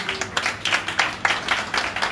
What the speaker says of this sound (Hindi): ताली बजा के धन्यवाद करेंगे